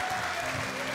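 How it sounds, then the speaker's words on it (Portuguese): A church congregation applauds the worship band, a brief, even burst of many hands clapping with no pause. "uma salva de palmas para essa banda maravilhosa também"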